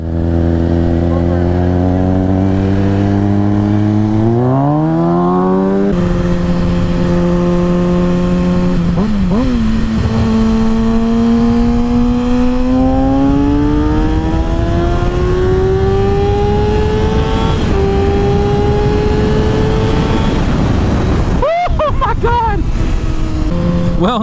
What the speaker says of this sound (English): this is my first time on a 600 Supersport